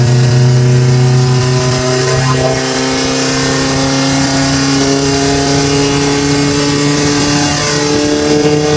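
An old Volkswagen Beetle engine revs loudly and close, with a sustained roaring drone and rising pitch sweeps as the throttle climbs and holds.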